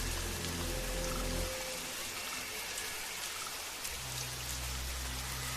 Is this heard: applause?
no